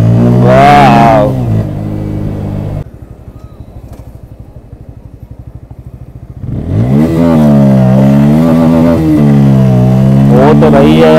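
A Bajaj Pulsar N160 motorcycle revs hard and climbs in pitch during a wheelie, loud and close, with a drop to a low idle-like rumble midway, while someone talks excitedly over it.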